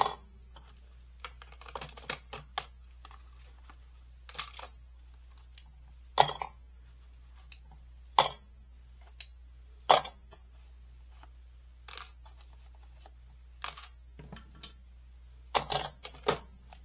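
Plastic clips come off the edges of a handmade faux leather journal cover, giving sharp, separate clicks and snaps at irregular intervals, close and fairly quiet against a steady low hum, with no talking.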